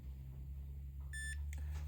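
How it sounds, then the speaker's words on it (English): A short electronic beep from an E-Collar Technologies training collar remote as its MC button is held down, a bright tone followed by a second brief chirp over a low steady hum. "if I press that MC button until it beeps again"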